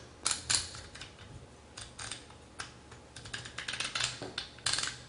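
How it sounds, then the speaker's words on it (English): Indexing wheel on a Tiberius Arms adjustable Picatinny rail clicking into place, a run of crisp, close mechanical clicks in irregular bursts with short pauses between them. "So you hear that clicking, that it indexes."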